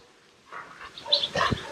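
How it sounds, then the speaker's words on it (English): A dog barks a few times at close range, short sharp yelps in a quiet home setting in the UAE, with no talking over them. "Why are you barking? Why are you barking?"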